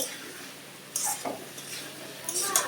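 Cauliflower, potato and rohu fish curry being stirred in a pan, with a few soft scraping and clinking strokes of a utensil against metal over a faint low sizzle, sparse and fairly quiet.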